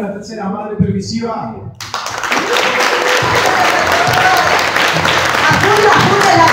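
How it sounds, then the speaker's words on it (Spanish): Crowd applause at a Christian Mother's Day play erupts after a brief spoken introduction and then holds as a loud, continuous wash of clapping to the end. "¡Aplauda, aplauda el aparato!"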